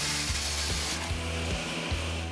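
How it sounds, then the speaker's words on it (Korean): Machine drilling of holes in lower cabinet panels before assembly in a factory, heard as a steady dense whir with a low hum that dips and returns in regular pulses about every half second. "조립 단계를 위해 미리 구멍을 뚫어주는 작업인데요"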